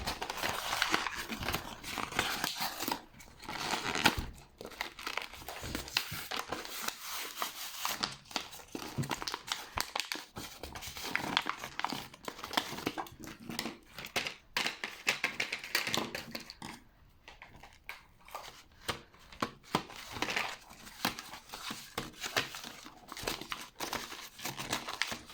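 Packaged felt-tip markers being unwrapped by hand, with close, quiet crinkling and tearing of plastic and cardboard, interspersed with light taps and rustles in an irregular rhythm.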